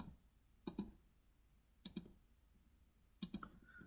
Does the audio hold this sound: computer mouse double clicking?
yes